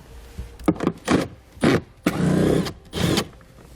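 A 10mm socket on a ratchet clicks in repeated short bursts while nuts come off a 2012 Chevrolet, close and fairly loud with brief pauses between strokes.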